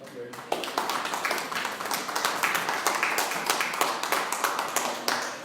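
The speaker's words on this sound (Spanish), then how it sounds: "Dale un aplauso al Señor." A church congregation claps steadily together, dense overlapping applause that swells and holds, with voices mixed in beneath it.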